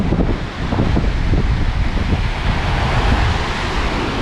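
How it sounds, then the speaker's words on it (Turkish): Strong wind roars across the microphone while rough waves churn and crash close by, a dense, continuous wash of noise. "Bugün çok rüzgar var. Deniz de bayağı dalgalı."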